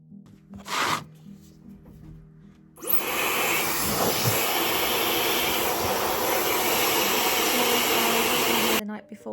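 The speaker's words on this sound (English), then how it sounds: "I'm just using the Dyson hairdryer" A Dyson hairdryer blows steadily and loudly on hair that is still slightly damp, a continuous broad rushing whoosh running for about six seconds after a few quieter handling rustles and faint voice sounds, then cutting off abruptly.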